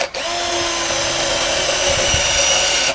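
DongCheng DCJZ1202i cordless impact drill spinning at its second speed setting, a steady close whine held for about three seconds with abrupt start and stop.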